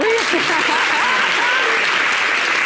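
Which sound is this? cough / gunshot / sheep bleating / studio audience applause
studio audience applause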